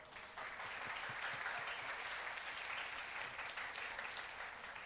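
Steady, sustained audience applause at a university talk concert, a fairly distant wash of many hands clapping that continues evenly throughout without speech.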